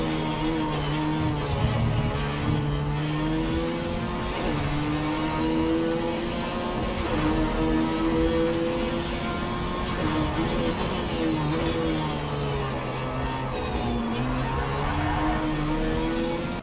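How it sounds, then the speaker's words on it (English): A steady, buzzing race car engine in the video game Project CARS 3 drones continuously with shifting pitch, like revving through gears, loud and constant with no talking. "Oh yeah, and the car sounds are rubbish."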